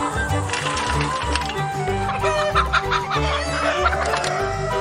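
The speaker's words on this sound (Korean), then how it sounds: "다른 닭한테 지금 쫓기기 때문에 다른 닭들한테 격리를 시켜줘야 돼요." Several chickens cluck and squawk close by as one is chased by another, busy overlapping calls and agitated bursts of cackling that keep up throughout at a fairly loud level.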